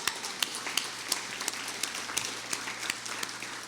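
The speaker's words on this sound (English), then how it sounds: "I want to just clap for that." An audience at an Older Americans Month breakfast applauds, the claps coming in a steady, fairly even rhythm, somewhat faint and distant in the room.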